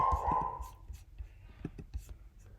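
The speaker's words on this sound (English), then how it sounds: "Sorry if you hear my psycho dog" A pet dog barks in a few short, sharp bursts off to the side indoors, with faint whispered speech and room noise around it.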